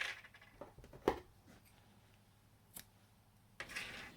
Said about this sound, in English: cut it back.